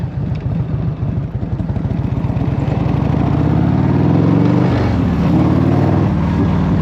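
A 1984 Harley-Davidson FLT Tour Glide engine runs steadily nearby, its loud, throbbing low pulse swelling slightly as it revs partway through, with no voices over it.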